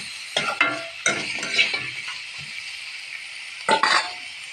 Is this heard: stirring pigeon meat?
yes